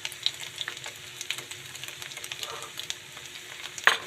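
Egg-coated luncheon meat fries in a pan with a steady soft sizzle, punctuated by small pops and light stirring clicks, close and quiet with no talking.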